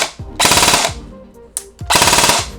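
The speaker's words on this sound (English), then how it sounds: "Shoots full auto in both modes, which is not the way it's supposed to be." An airsoft gun with a faulty selector fires full-auto bursts while set to semi, two loud rapid bursts of mechanical clattering shots separated by a short pause and a single click.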